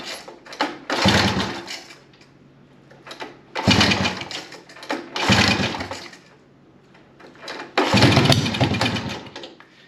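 A 1978 Honda ATC 90 three-wheeler with carb cleaner in the intake and the choke on, heard through a series of loud, rough, roughly two-second mechanical bursts from repeated pull-start attempts, separated by near-silent gaps.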